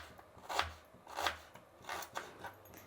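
A knife slices a red onion thinly on a cutting board, with about four crisp, evenly spaced strokes, close and fairly quiet.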